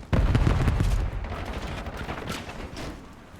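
Gunfire in Call of Duty: Black Ops 7 beta on PS4 Pro: a loud, close burst of rapid shots opens, then a dense crackle of continued fire and impacts that gradually thins and softens, with no talking.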